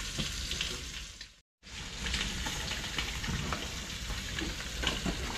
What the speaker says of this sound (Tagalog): Ayan, gigisa naman tayo.